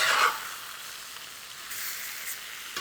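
Cornflour-dusted fish fillets for a turmeric and dill dish fry in a hot pan, giving a brief sharp hiss when they go in, then a soft, steady sizzle.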